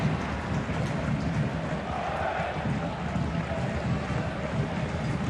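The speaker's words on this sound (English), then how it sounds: "Now we've got some heavy rain, which will just add to the intrigue of this game." Heavy rain pours down at a football stadium during an A-League match between Perth Glory and Melbourne Victory, a dense, steady hiss of downpour blended with distant crowd noise.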